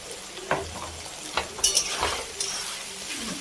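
Ginger, garlic and green chili paste frying with tomato in a pan, a low sizzle broken by a few sharp stirring scrapes and clinks of a utensil against the pan, close, no talking.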